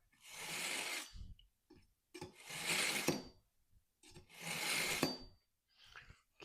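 A knife blade pulled through the slots of a knife sharpener, three separate gritty metal-on-abrasive strokes about a second long, close and fairly quiet, with short pauses and small clinks between them.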